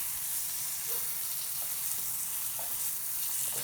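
Cajun-style smelts pan frying in hot oil give a steady, close, bright sizzle that runs unbroken throughout, with a few small pops and crackles and no talking.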